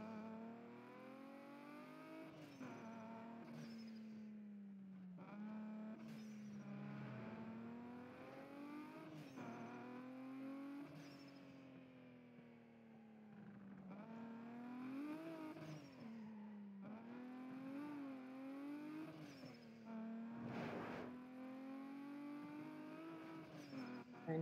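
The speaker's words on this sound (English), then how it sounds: "I'm just going to drive there for this one." A car driving in the Need for Speed video game, its engine droning and revving up and down through gear changes, with occasional tire squeals, steady and fairly quiet throughout.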